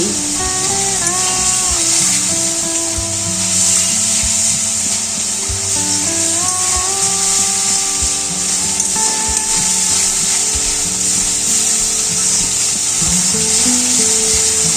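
Black mustard paste with turmeric, cumin, chilli powder, salt and sugar fries in a pan for a mustard fish curry, giving a steady close sizzle with scraping stir strokes throughout, and no voices.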